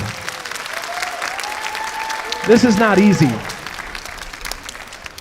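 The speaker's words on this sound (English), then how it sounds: "can we get a round of applause for our percussionists and the whole band?" Audience applause for percussionists and a school band at a middle and high school band concert, a steady wash of clapping beneath someone speaking, swelling briefly midway before settling back.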